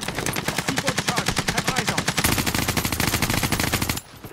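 Sustained rapid bursts of AK rifle fire in a first-person shooter match, loud and close, with evenly spaced shots running several seconds before cutting off.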